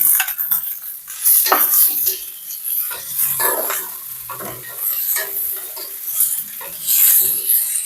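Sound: stirring frying mixture in a pan

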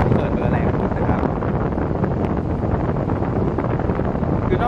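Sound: JPX Super Turbo 20-inch electric fan running at full speed

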